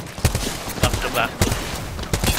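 Gunfire in the video game Apex Legends: several sharp shot bursts crack out at irregular intervals over a busy game soundscape, with a voice talking in between.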